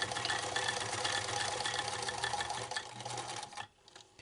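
A sewing machine runs steadily, top stitching close to the edge of a cat collar, with a dense, even mechanical whir that holds for several seconds before cutting out abruptly near the end.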